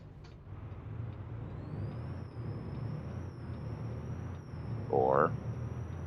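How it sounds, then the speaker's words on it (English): A truck in American Truck Simulator approaches from behind as a steady low engine drone and road rumble, with a short hissing air-brake-like burst near the end and a faint high whine throughout. "another truck coming up behind me."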